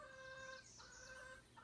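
Chickens cluck and squawk faintly in the background, a few drawn-out calls overlapping, quiet and somewhat distant.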